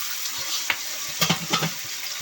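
Tomatoes and vegetables fry in a pot for lentil soup while being stirred, giving a steady soft sizzle with a few spoon scrapes and clinks near the middle.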